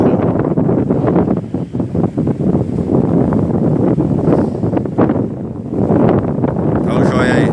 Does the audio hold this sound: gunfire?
no